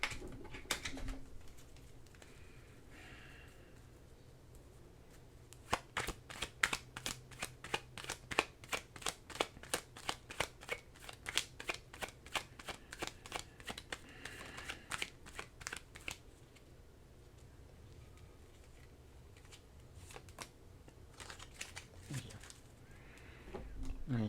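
Tarot cards shuffled in a rapid riffle of crisp, dense flutters for about ten seconds, with softer handling of the deck before and after and faint background sounds throughout.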